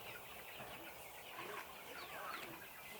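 Chickens in a barn at Maple Wind Farm cluck softly and continuously as a faint, distant flock murmur with no voices over it.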